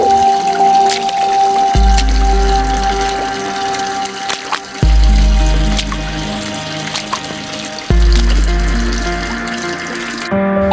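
Flowing, splashing water as a cartoon donkey wades across a river, a steady wash with deeper surges returning about every three seconds, loud and close with no voices.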